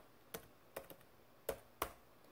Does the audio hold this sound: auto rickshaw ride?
no